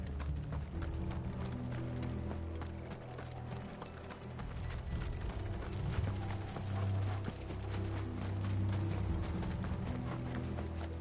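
Steady clip-clop of horse hooves with rattling, mechanical clatter underneath, continuous and fairly close throughout, in the video game Final Fantasy XVI.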